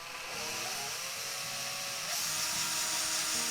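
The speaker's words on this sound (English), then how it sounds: "So you get your wood bit and drill." A power drill with a wood bit whines steadily into wood while building a stud wall, a continuous high buzzing that grows slightly harsher partway through, close and unbroken.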